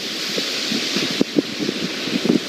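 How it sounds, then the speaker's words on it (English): Strong wind over Lake Michigan waves crashing onto the shoreline at Racine on a winter afternoon: a steady broadband roar with scattered brief surges and splashes, fairly close, without voices. "It is incredible to see these waves just crashing into the shoreline here in Racine."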